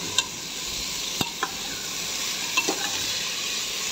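Vegetables with turmeric, chili and salt sizzling in a pan for khichuri, a steady frying hiss with a few sharp scrapes and taps of stirring, close up, no voices.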